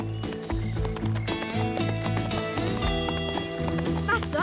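Horse's hooves clip-clopping as it trots away in a cartoon scene, rapid hollow hoofbeats with a neigh and a background music score, while a voice talks over it.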